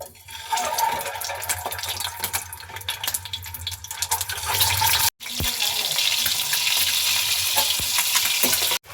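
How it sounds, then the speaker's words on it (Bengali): Eggs frying in hot oil in a kadai sizzle loudly and steadily up close, with a clattering stir, a brief break, then the hiss continuing undiminished. "এবার সব ডিমগুলোকে ভেজে নেব।"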